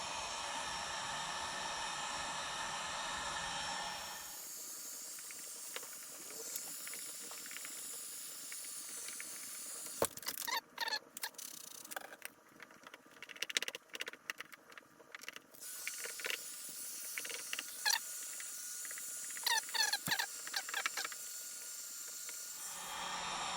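Heat gun on its low setting warming headlight tint film, a steady breathy hiss that cuts off partway, followed by quiet handling clicks and small ticks before the blowing hiss returns.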